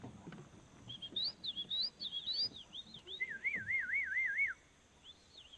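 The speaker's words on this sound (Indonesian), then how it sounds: "burung yang barusan bunyi itu adalah kawan dari burung gratik batu yang kita bawa" Wild bird calling on forested Mount Sibayak, a bright warbling whistle of rising and falling chirps, then a rapid trilled run, moderately near over quiet ambient background.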